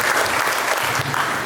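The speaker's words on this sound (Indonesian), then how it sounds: "Tepuk tangan untuk orang semua dulu." An audience applauds at a gathering of parish communications volunteers with a pastor, a dense, steady wash of many hands clapping from start to finish, fairly loud and close, with no voices breaking through.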